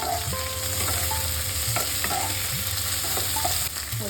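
Green peas and tomato fry in a pan, a close continuous sizzle with a few stirring scrapes and clinks; no one speaks.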